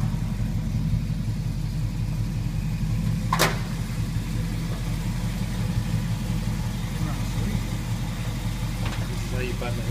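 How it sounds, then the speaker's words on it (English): A 1934 Plymouth car engine idles smoothly, a steady low rumble under continuous nearby talk, with one brief sharp click near the middle. "Idle's nice, very smooth. It's not shaking the car."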